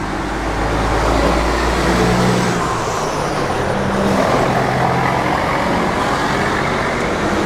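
Steady idle of a 1966 Ford Mustang's 302 V8 with Holley 4-barrel carburetor and ceramic headers, a loud, continuous low rumble throughout with no speech.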